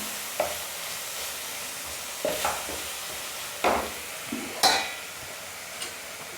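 A spoon scrapes and stirs spring roll vegetable filling with sauce in a sizzling pan, giving four or five distinct scraping strokes spaced a second or so apart over a constant low frying hiss.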